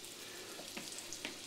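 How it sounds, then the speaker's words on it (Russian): Floured beef tail pieces fry in well-heated oil in a skillet over high heat, giving a faint, steady sizzle with a few small crackles in a brief moment. "мы обжариваем со всех сторон хвостик"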